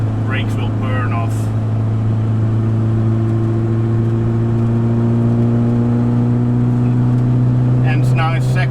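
A rental camper van engine drones steadily at high revs while driving in second gear at about 60, a loud, continuous hum with a strong low tone, joined by brief higher noises near the start and end.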